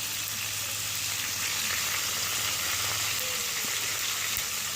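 Whole cumin seeds frying in hot oil while making an olive pickle, a continuous even sizzle with a faint steady hum beneath, moderately loud and close, no voices.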